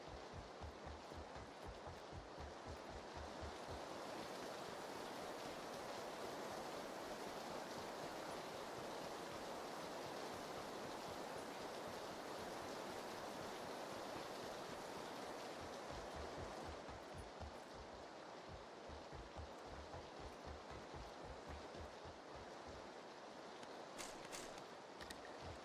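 Steady, dense rain hiss fills the PUBG battle royale scene, a constant broadband wash with faint low thumps underneath, loud and continuous throughout.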